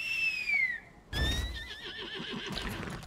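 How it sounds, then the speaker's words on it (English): A horse in the video game Lost Ark whinnies loudly as it is mounted: one falling neigh, a short gap, then a longer wavering whinny with a rough, breathy onset. "You can mount a horse by using the mount inventory."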